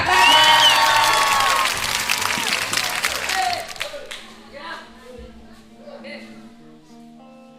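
Crowd applause and cheering at a team-building talent show, loud clapping with shouts right away that thins out after a few seconds as music and talk come in.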